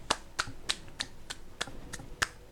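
A run of crisp finger snaps used as applause, eight or so, spaced a bit unevenly and close to the microphone, with nothing else prominent.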